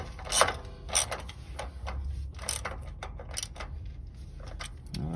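A ratchet wrench tightens the bottom sway bar bushing bolt on a first-generation Nissan Xterra, a few sharp metallic clicking bursts spaced apart, close and fairly quiet.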